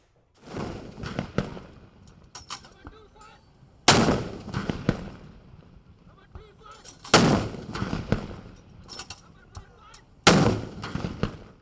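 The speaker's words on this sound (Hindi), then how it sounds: "पाकिस्तान आर्मी लाहौर कैंट महफूज शहीद गैरिजन में 21 तोपों की सलामी दी गई।" A 21-gun artillery salute by the Pakistan Army at the garrison in Lahore Cantt: four heavy booms at regular intervals several seconds apart, each followed by a rolling echo, with crowd noise and faint voices between shots.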